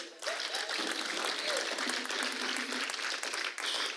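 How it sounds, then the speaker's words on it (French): Applause from the audience at a stand-up comedy festival show breaks out after a brief moment and carries on dense and steady, many hands clapping at once for nearly four seconds. "Vraiment, messieurs, applaudissez pour vous."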